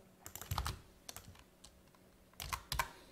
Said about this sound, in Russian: буду вводить нам имя Alex и developer